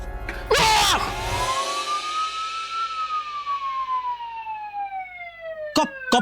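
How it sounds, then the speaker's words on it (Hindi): A police siren wails once, its pitch gliding slowly downward, with a loud burst of noise at the start and brief clatters near the end. "पुलिस का सायरन है।"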